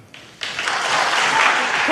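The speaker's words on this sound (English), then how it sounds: "Can we please hold the applause?" Presidential debate audience breaking into applause, a sudden swell of many hands clapping that quickly builds into a dense, sustained roar.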